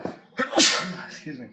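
A single sharp sneeze bursts out close by during a casual indoor conversation, followed by a person speaking briefly.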